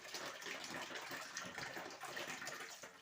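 Moong dal being washed under a running kitchen tap, a steady close gush of water with faint sloshing of the lentils, continuous and fairly quiet, with no talk.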